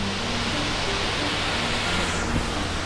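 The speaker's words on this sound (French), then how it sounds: "la cascade est juste là, donc elle est très belle" A waterfall in Flåm, Norway roars loud and close, a dense, unbroken rush of falling water with no pauses.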